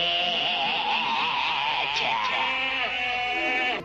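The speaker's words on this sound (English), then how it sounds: "Goats." Goats bleating in the video game Epic Mickey, a loud continuous wavering bleat of overlapping animal cries lasting several seconds.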